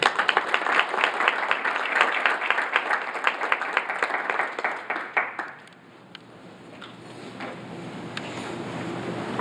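An audience round of applause at a sports economics event in Atlanta, dense and fairly close for about five seconds before tapering off into quiet room tone.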